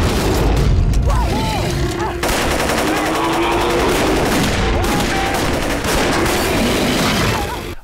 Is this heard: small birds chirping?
no